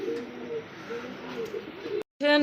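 Paired pigeons coo softly nearby in a low, rolling rhythm for about two seconds, followed by a brief gap and a louder burst of sound.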